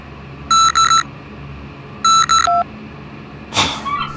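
A mobile phone rings in the Die drei ??? video game with two bursts of bright electronic ringtone beeps, each a quick double pulse, followed by a short rustling noise.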